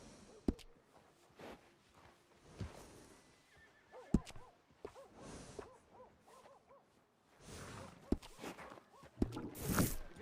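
A horse in Red Dead Redemption 2 whinnies in a wavering burst, with scattered hoof clops and thuds around it, fairly quiet and close.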